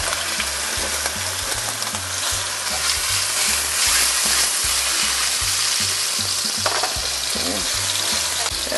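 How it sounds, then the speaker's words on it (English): Pieces of salt cod frying with garlic in a pan for bacalhau, a loud, dense, continuous crackling sizzle heard up close and alone. "we're going to go ahead and put in the cod pieces"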